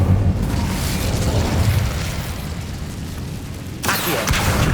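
An Incendio fire spell goes off in Hogwarts Legacy as a loud, sustained roaring blast of flame. It holds a steady rumble for several seconds, then flares into a fresh whooshing burst near the end.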